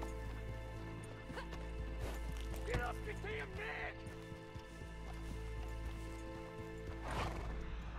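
A horse in the Western video game Red Dead Online whinnies clearly over a steady game ambience, with light hoof clip-clops and other neighs scattered through, while players talk faintly.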